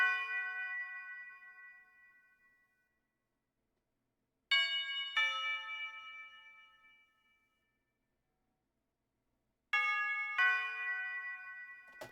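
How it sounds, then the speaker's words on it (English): A church bell rings three separate times, each strike bright and resonant, ringing out and decaying into silence before the next. "the last melodic element that we added here, I guess if you want to call it melodic, is this church bell"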